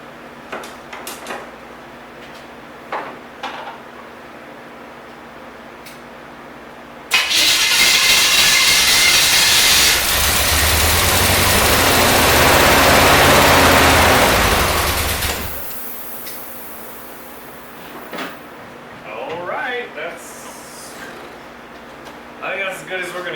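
A 1972 Corvette engine, long abandoned in a field, catches and runs loudly for several seconds with a rough, hissing roar before dying away; a person talks before and after it.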